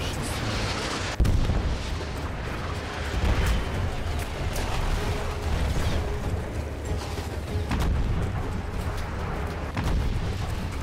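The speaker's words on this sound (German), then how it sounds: "Oh mein Gott, wir schießen." Gunfire and explosions in the video game Battlefield 1 form a constant battle din, with a heavy boom near the start and repeated shots and blasts throughout, loud and dense.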